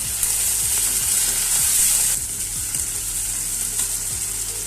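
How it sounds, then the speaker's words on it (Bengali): Chopped tomatoes tossed into spring onions frying in a pan, a loud steady sizzle with repeated scrapes and knocks of stirring, the hiss dropping slightly as the tomatoes go in. "এবারে আমি দিয়ে দিচ্ছি এর মধ্যে কুচনো টমেটোগুলো"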